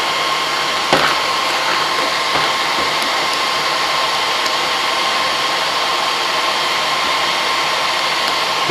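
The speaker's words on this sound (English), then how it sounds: "I'm just adjusting the distance from the hairdryer as it sits on its side here" A steady, close blowing whir of a hair dryer sitting on its side, blowing hot air, runs throughout, with a couple of faint clicks early on.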